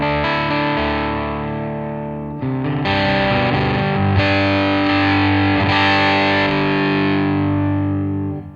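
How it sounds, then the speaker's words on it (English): Electric guitar played through a Headrush MX5 on its DC distortion at low gain, loud sustained chords ringing out with a couple of brief breaks between strums, dynamic and slightly gritty, with no talking. "this would be the DC distortion I've set really low gain"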